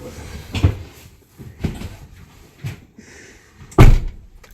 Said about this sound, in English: Can you close the door so that beeping's not going on?